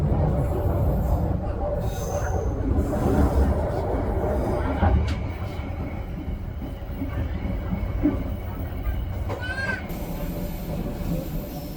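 Pangrango new-generation passenger train running on the Bogor–Sukabumi line, heard from inside with a steady low rumble and wheel noise, occasional clicks and a brief squeal, alongside faint distant voices.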